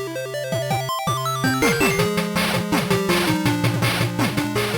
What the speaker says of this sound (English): And this is the sound of the Master System